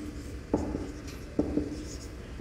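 Marker or chalk strokes on a classroom board while a heading is written, with two short scratchy bursts, close and quiet, over a low steady room hum.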